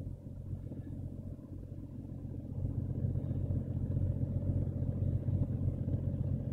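A Jeep Cherokee engine idles through a cold startup, a steady low rumble with an even pulsing beat that grows slightly louder and rougher partway through.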